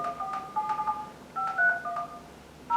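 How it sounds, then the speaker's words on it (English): Mobile phone keypad tones sound in a quick sequence of short electronic beeps, several in a row with brief pauses, clear and close against a quiet background. "I'll just make a call from my mobile phone, and I'll dial"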